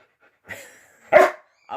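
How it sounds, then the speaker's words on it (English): A dog barks close by, two short separate barks with a brief pause between, in an otherwise quiet room. "Do I have to wait until you're done barking?"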